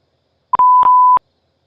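Beeping tone on a police radio dispatch channel: three short electronic beeps joined by a steady held tone, loud and close, with no talk over it.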